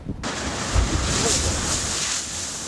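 Sea waves breaking against the rocky Guryongpo coastline, a steady broad wash of surf under strong wind noise, with a muffled surge in the middle and no clear talk.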